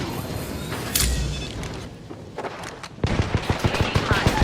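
Gunfire in the video game Apex Legends: sparse shots early, then a rapid, loud burst of repeated shots near the end, with game sounds and a brief voice in the mix.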